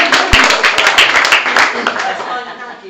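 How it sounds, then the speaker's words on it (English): A small audience at a members' event gives a brief round of applause, a dense patter of many hands clapping close by and fading after a few seconds, with voices mixed in. "Let's have a little round of applause."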